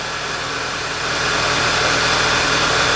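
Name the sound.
2011 VW Tiguan engine idling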